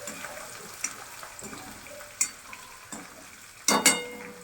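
Green chili, ginger and garlic paste sautéing in hot oil for a whole-garlic curry, with a soft steady sizzle, a few spoon scrapes and a louder crackling burst near the end as the paste hits the pan.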